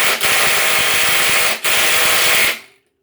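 Ryobi impact driver hammers at a stubborn screw, a loud rapid rattling burst lasting over a second, a brief pause, then a second long burst before stopping.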